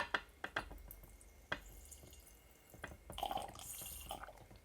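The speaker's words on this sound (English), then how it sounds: "Let's try pouring it now." NOTPOLISH acrylic nail monomer poured from a bottle with a spout: a few sharp drips and taps, then a short, close trickle of liquid near the end.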